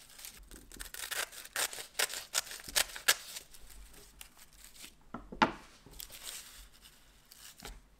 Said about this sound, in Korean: 김을 정확히 십자로 4등분해 잘라줍니다.